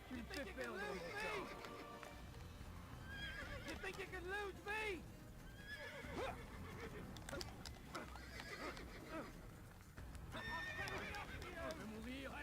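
Horse neighing and hooves pounding at a gallop in the video game Assassin's Creed 1, repeated whinnies over continuous hoofbeats, with a voice and game music mixed in throughout.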